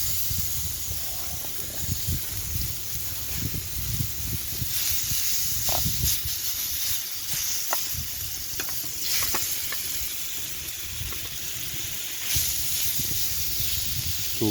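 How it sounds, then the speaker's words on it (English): Marinated Brazilian chicken sizzles and hisses in a hot pan over a campfire at a wild camp in Scotland, with steady frying crackle broken by occasional stirring clinks and scrapes. "Ready for the sizzle?"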